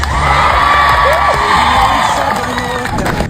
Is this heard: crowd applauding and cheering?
yes